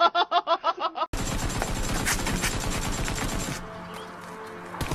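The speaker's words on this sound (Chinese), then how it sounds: "他们人都看不见，枪声那么大" Rapid bursts of gunfire crackle loudly and densely through a live-action Peacekeeper Elite game, following a short run of rhythmic pulsing sounds and fading into quieter clatter toward the end.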